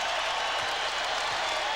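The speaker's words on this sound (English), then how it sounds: "the fans on their feet applauding a come-from-behind effort by the New York Knicks" Basketball fans on their feet applauding the New York Knicks' comeback against the Miami Heat in an NBA game, a dense, steady roar of clapping and crowd noise that fills the whole arena evenly.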